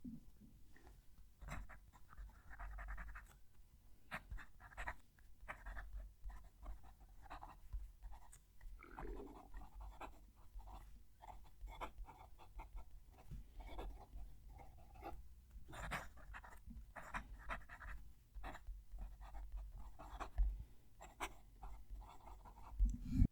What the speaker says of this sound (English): Let's move the mic and write the sentence.